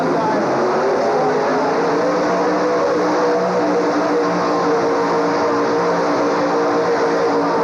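A loud, sustained pulling-tractor engine roar at a 1985 tractor pull drones steadily throughout, thick with layered harmonic tones that hold nearly constant pitch.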